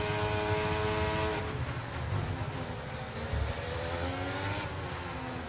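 Formula 1 cars race at the Singapore street circuit in the F1 23 game, a loud engine drone climbing through gears onto the main straight, with other cars' whines passing nearby.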